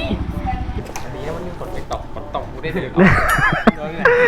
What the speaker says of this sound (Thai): ไก่แล้วเฮ้ย